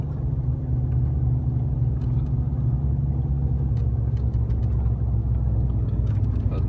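Car cruising in a single gear with no shifting on the Kolyma highway between Yakutsk and Ust-Nera, a constant low engine and road rumble with faint ticks above it.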